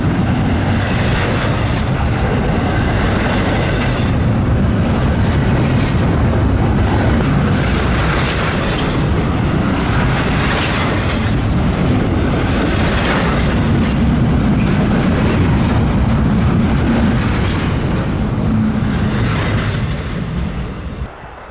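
A CSX/Norfolk Southern intermodal freight train rolls steadily past westbound on the Pan Am Southern line, a loud continuous rumble of wheels and clattering rail cars sustained for the whole stretch, with no talking.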